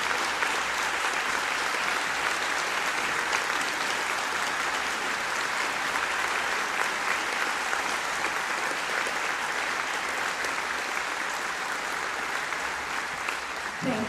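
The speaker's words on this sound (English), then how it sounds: "Please stand, and please help me give these students a round of applause." An awards-ceremony audience gives students a long, even round of applause at the Northeastern Senior Awards 2024. The dense clapping holds steady and loud for about fourteen seconds without letting up.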